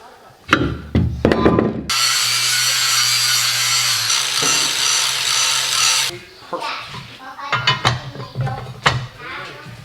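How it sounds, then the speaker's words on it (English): An angle grinder grinds down a metal piece for a Mahindra ROXOR, a loud, steady high-pitched whine for about four seconds, with talking just before and after. "I'm going to grind off a little bit of this piece"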